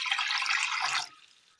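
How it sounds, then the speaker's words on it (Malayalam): Water is poured into a pan set on a stove, giving a bright splashing gush for about a second that then fades to a faint trickle. "അടുപ്പത്തൊരു ചട്ടി വെച്ച് കൊടുത്ത് അല്പം വെള്ളം ഒഴിച്ചു കൊടുക്കാം."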